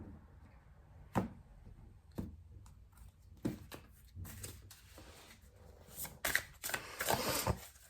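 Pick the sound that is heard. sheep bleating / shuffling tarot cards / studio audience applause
shuffling tarot cards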